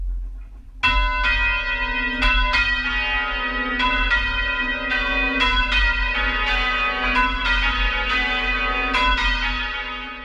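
A church bell being rung up by its rope strikes repeatedly in an uneven rhythm, each clang ringing out with long overlapping resonance over a low hum.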